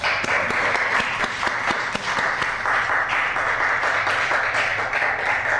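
Steady audience applause at a poetry reading in a branch library, a dense continuous clapping from a room full of people with sharper individual claps popping out, holding at even loudness throughout.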